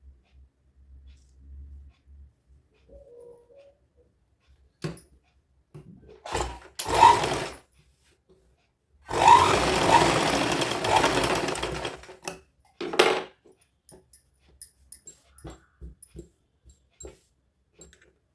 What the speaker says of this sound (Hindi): सिलाई लगा लेंगे इसमें।